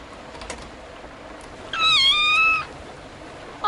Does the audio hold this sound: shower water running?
no